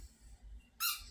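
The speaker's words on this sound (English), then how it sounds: "I regret giving her that squeaky toy now." A dog's squeaky toy gives one short, shrill squeak near the end, loud and close against a quiet indoor background.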